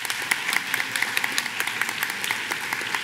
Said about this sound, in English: Let's give them all a round of applause again.